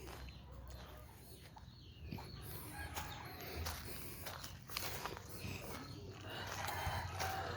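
Chickens and a rooster move about near a backyard bonfire, with soft clucking and rustling footsteps on dry ground over a steady outdoor background, fairly faint and without speech.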